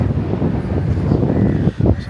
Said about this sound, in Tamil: சூப்பராக கடல் காற்று வருது